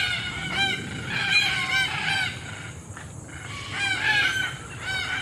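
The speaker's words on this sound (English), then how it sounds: "Black cockatoos." Black cockatoos calling outdoors, with repeated loud wailing cries in quick bursts over a constant background of street noise and wind.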